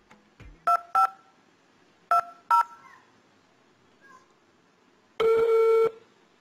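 Telephone keypad tones sound on a Uyghur television concert program, several short clean beeps in quick pairs followed by a longer steady tone, alone against quiet background.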